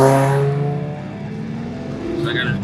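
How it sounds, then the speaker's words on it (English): A Honda car passes by on a race track at a track day, its engine tone rising and falling as it goes past, with a steady rumble and some wind noise throughout. "We'll let the Honda pass by."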